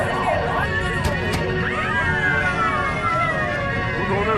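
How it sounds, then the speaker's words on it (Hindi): Wailing emergency siren with rising and falling tones sweeping over a busy street background, continuous and fairly loud, with faint voices underneath. "क्या वो सायरन है?"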